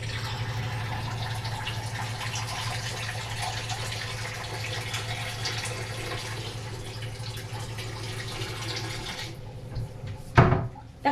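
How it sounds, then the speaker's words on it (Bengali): Bowl of water poured over rice in a pot, a steady close-up rush of running water with a low gurgling undertone, ending in a few splashes and a clatter as the flow stops. "সেই বাটিরই আমি 1 বাটি কিন্তু জল দিচ্ছি"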